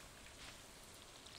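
Steady rainfall in the farming video game Stardew Valley, a soft, even hiss of drops pattering on surfaces, very quiet and unbroken.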